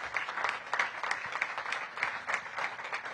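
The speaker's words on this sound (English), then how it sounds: "Give them a big round of applause." Audience applause at a city government homeownership event, honoring a housing department team; a fairly quiet, steady patter of clapping from a room of people, continuous for a few seconds without talk.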